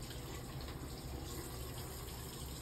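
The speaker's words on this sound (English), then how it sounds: "So I'm going to turn on the tap." A kitchen or bathroom tap runs steadily, filling for rinsing a denture cup during mouth care: a constant, close rushing of water with no pauses or talk.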